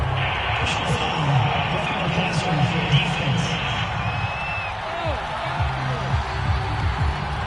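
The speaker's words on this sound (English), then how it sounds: "Well, this crowd does not like that call." A stadium crowd in an American football video game reacts to a roughing penalty call with a sustained, loud roar of boos and shouts, heard under commentary.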